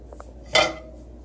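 A metal spoon clinks once against a plate while scooping hazelnut brown butter sauce onto plated salmon and asparagus, a single short, close clatter preceded by two faint taps.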